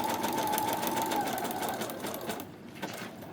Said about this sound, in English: So now I am now sewing this onto this page.